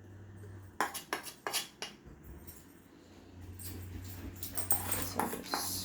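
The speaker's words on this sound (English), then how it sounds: "Sorry about my dog barking." Indoor dog barking in a run of sharp, separate yaps that come near and loud, pausing briefly before a quicker burst of barks with faint clinking in the background.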